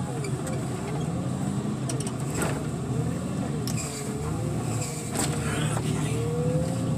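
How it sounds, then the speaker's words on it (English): Car engine pulling in low gear, a steady droning hum with a whining pitch that rises and falls, plus a few sharp mechanical clicks. "Let me drop it off in my low gear."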